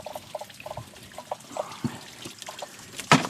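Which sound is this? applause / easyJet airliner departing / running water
running water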